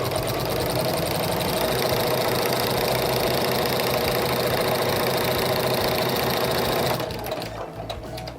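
A sewing machine with a walking foot stitches a wavy quilting line in a fast, even, rattling run, loud and close, then winds down at the end. No one speaks.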